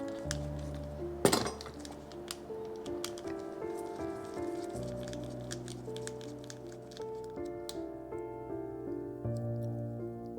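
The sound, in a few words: metal parts of a Penn Fierce II 5000 fishing reel clinking during disassembly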